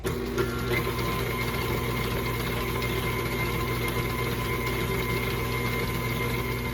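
An electric mixer beats pound cake batter close by with a steady, droning motor hum and a faint whirring rattle, running evenly and unbroken without any talk.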